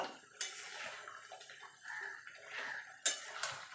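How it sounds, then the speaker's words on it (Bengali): Chicken tossed with ground roasted spices in a pot for chicken kosha gives faint scraping and clinking of a utensil against metal, in a few short, irregular strokes that come close and clear. "এবার ভালো করে মিশিয়ে নেব"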